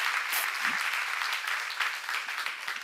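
A church seminar audience claps steadily and loudly throughout, a dense, continuous wash of applause with no voices standing out.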